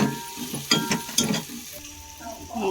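Chilli, turmeric and coriander powder are stirred in a frying pan, with scraping strokes and soft sizzling coming in uneven bursts, louder early and then settling to a low fry.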